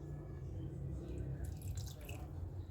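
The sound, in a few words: lemon juice poured onto half a chicken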